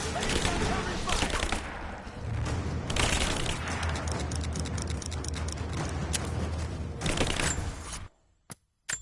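Covering gunfire rattles in dense, loud bursts during a firefight in Rise of the Tomb Raider, with voices mixed into the din before it breaks off abruptly.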